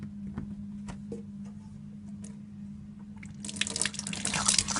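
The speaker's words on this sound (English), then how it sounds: "I'm going to fill the zinc with water, cold water." Cold tap water filling a kitchen sink for cooling a pot of milk, a low hum and drips at first, then the stream opens into a loud, close, steady splashing gush.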